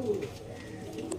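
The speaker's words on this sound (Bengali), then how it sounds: "তো চলুন দেখিয়ে দিই পায়রাগুলো একবার।" Pigeons coo softly at close range in a brief, low, murmuring burst with faint background noise.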